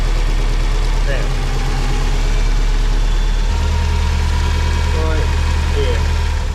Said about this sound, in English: start the car, no clutch needed